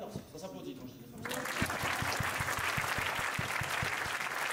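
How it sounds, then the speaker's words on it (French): After a moment of speech, loud applause breaks out from an audience at a live stage show, a steady dense roar of clapping with a few distinct rhythmic claps standing out. "Ça s'applaudit quand je dis ça."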